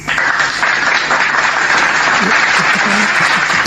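An audience claps at a church gathering, steady dense applause filling the whole short stretch, loud and close, with voices murmuring underneath.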